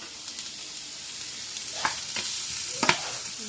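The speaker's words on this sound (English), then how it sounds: "I heated the oil and I just added the chopped jalapenos and the tomatillos" Chopped jalapenos and tomatillos frying in hot oil make a constant, even sizzle with a few brief scraping knocks of a spoon in the pan, near and alone.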